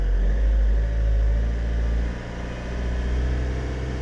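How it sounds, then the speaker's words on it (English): Diesel engine of a Vauxhall Astra K running and revved gently just after a fuel filter change, a steady close low rumble that dips in pitch and level about halfway through. "I'm just going to give it some revs just to get the fuel through."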